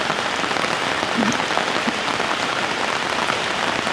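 Rain falls steadily on surfaces around a rural home, a dense even patter of drops that holds at a constant level throughout.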